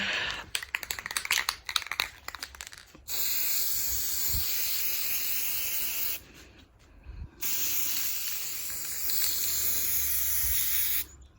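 Aerosol spray paint hisses from a can while a second coat goes onto office decor: brief clattering first, then two long, steady, close bursts of spray separated by a short pause.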